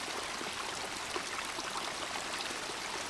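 A freshwater stream flows steadily along an overnight hiking route, a continuous broad rushing and trickling wash of water heard close by, with no voices.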